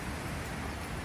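Steady, soft hiss of rain falling at the Taipei flower market in Neihu, a continuous even wash of drops with no voices over it.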